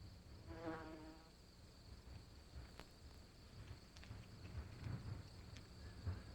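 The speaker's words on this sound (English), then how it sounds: "Another digger is this wasp. It can burrow in hard-packed desert sand, digging with its front legs as well as its jaws." A wasp buzzes close by while digging a burrow in hard-packed desert sand, with a brief droning hum at first, then faint scratching and rustling against a quiet outdoor background.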